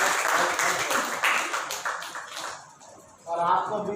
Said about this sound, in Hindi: इसलिए आयोजकों को ताली बजाने में कंजूसी मत करना